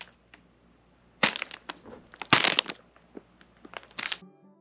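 Metal guitar tapping plate struck with a set of tuners, giving uneven clinks and scraping bursts in several loud clusters, close and alone, ending in a short ringing tone.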